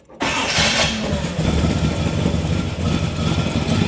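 A 1968 Chevrolet Chevelle convertible's small-block Chevy V8 with headers fires up after a brief crank and settles straight into a loud, steady, rumbling idle close by, with no talk over it.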